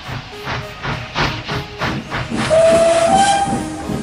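A steam locomotive whistle shrieks in a long, loud blast over hissing steam and the rhythmic chuff of a narrow-gauge engine pulling coaches.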